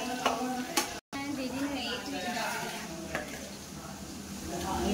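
Onions being stir-fried for street-style veg fried rice, with busy scraping of a spatula against the pan over a constant sizzle and a few sharp metallic clinks.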